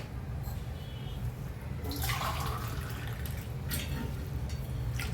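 Water is poured into a pan of chicken kofta gravy, giving a short splashing pour against a low, steady cooking hiss.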